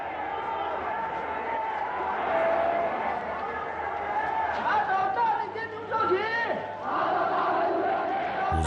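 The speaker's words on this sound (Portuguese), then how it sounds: "estádios que tremiam com os gritos da multidão" Vengeful crowd shouting in a stadium, a dense roar of many voices with rising yells and cries swelling throughout, steady and loud, with individual shouts poking out.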